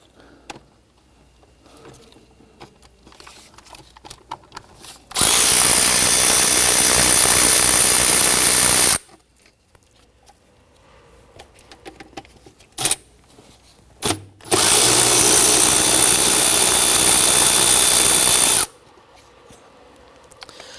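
Power tool unbolting the two 12mm fuel rail bolts on a 2011-2015 Kia Sorento engine, two loud steady whirring runs of about four seconds each, close up, with ratchet-like clicks and handling noise between them.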